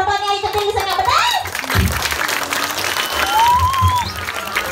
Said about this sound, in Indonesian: Dia tepuk tangan ya.